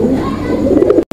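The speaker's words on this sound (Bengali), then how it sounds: "আমরা এই মুহূর্তে দেখতে পাচ্ছি এখানে আরো এক জোড়া কবুতর আছে।" Pigeons coo at a bird market in a short, close, throaty rolling burst that lasts about a second.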